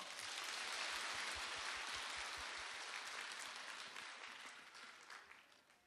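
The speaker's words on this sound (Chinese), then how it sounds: "鼓掌。" Audience applause at a Macau religious talk event, a dense sustained patter of clapping that stays loud throughout and tapers slightly toward the end.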